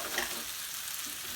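Sausages for gumbo brown in a pan with a soft, steady sizzle and crackle, faint and continuous at close range, with no talking.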